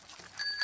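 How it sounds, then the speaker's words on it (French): A quick, bright bicycle bell ring in a cartoon, two short chimes with a thin ringing tone, heard close and alone over a soft background. "Et ici la sonnette."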